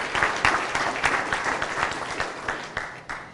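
A room of attendees at a school board meeting claps for a student debater who qualified for nationals, a steady ripple of many hands at moderate volume with a few sharper claps standing out.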